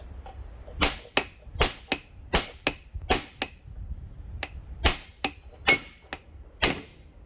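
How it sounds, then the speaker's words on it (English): A Snap-on dead blow hammer strikes a differential bearing on a Ford 9.75 rear differential carrier, delivering about a dozen sharp, close metallic blows in an uneven rhythm. "It's dead blow. It's a good hammer."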